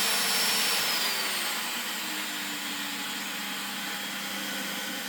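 A 1990s Panasonic MC-E53 900-watt upright vacuum cleaner runs steadily, a loud close whine and airy roar whose pitch sags slightly as the motor settles, with no voices.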